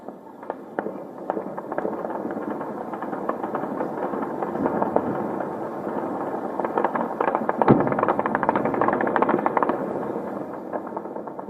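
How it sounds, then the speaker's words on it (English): Celebratory gunfire crackles in Beirut's southern suburbs, a distant jumble of irregular sharp pops and short bursts over a steady rumbling background, with one louder crack standing out midway. "gunfire was heard in Beirut's southern suburbs"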